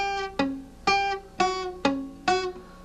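An acoustic blues guitar chord played five times, each sharp strum ringing briefly and decaying, with the second string sounding weak and thin inside the chord.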